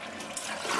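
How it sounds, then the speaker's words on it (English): A household toilet flushes up close with a rushing, gurgling wash of water that swells toward the end, heard alone without talking. "Flush it again."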